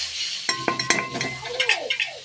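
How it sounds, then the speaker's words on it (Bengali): Cumin paste and spice paste frying in a pan as it is stirred, with sharp spatula scrapes and clacks against the pan over a wet sizzle and bubbling, no speech. "তারপরে দিয়ে দেব 1 চামচ মতন জিরে বাটা, দিয়ে ভালো করে কষিয়ে নেব।"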